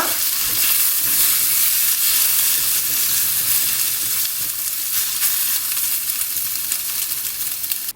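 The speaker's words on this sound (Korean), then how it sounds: "이제 여기에 풀어놓았던 계란 넣고 스크램블을 만들어주세요." Beaten eggs scramble with wilted cabbage in a hot frying pan. The loud, continuous sizzling runs close throughout, with faint scraping from stirring mixed in.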